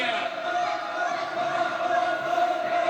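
A wrestling crowd at an indoor event in Scottsburg, Indiana, roars with steady cheering and chanting, a dense continuous wall of voices without pause.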